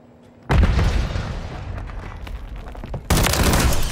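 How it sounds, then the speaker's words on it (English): A grenade in Call of Duty goes off in a sudden loud blast that decays into rumbling debris, then a second harsh burst hits near the end. "Grenade!"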